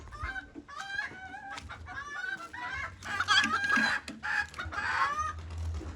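Japanese bantam chickens cluck and chatter close by in a pen, with overlapping short calls and a crow-like call mixed in over a low background rumble.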